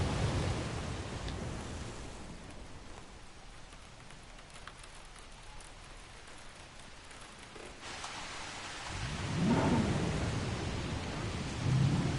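A thunderstorm with rain in the Jurassic World Evolution video game: a steady wash of rain runs throughout, and a deeper rumble of thunder swells near the end. No one speaks.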